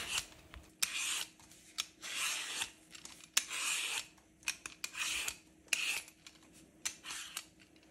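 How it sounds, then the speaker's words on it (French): Peeling a butternut squash, a run of close, quiet scraping strokes, each a short rasp followed by a brief pause, repeated in an uneven rhythm. "Je commence par éplucher une courge butternut"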